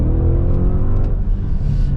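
An Audi SQ8 engine revs loud and close, a steady deep roar that swells and surges for about two seconds with no voices over it.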